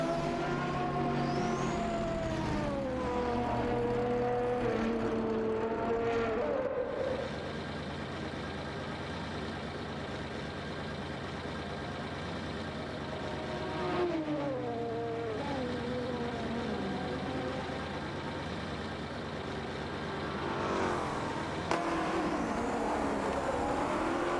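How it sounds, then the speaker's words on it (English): Ferrari 512M race car engine in a simulated race, loud and sustained throughout with rising and falling revving sweeps as it accelerates and shifts, no voices. "Racing car dashing away."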